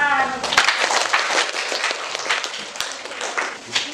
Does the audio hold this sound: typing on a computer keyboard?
no